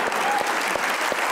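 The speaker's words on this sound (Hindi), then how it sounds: "तालियां होनी चाहिए।" A studio audience at a comedy talk show bursts into dense, steady applause, close and loud through the brief moment.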